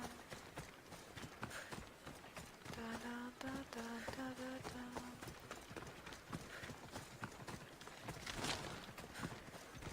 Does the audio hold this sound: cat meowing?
no